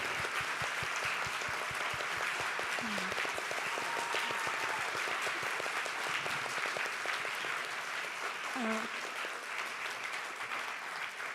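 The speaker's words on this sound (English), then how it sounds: "give them the huge, huge applause" Long, even applause from a press conference audience at an international film festival honoring a film team, a dense wash of clapping heard from across the room, with a few faint voices briefly surfacing.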